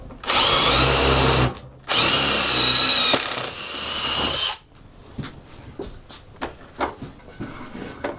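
A power drill bores pocket screw holes into wood in two loud whirring bursts with a brief pause between them, then quieter knocks and handling sounds follow.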